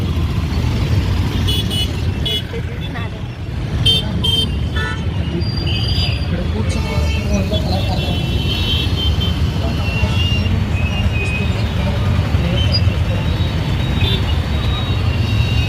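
Traffic jam near the Tower Clock on a cloudy, drizzly day: a steady, dense roar of idling and moving vehicles, with a few scattered horn toots early on and a voice faintly present.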